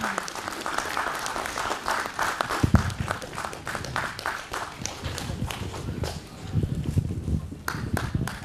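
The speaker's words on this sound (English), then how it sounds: "A round of applause, please." An audience at a leadership summit gives a panelist a sustained round of clapping, a dense, even wash of hand claps filling the room throughout.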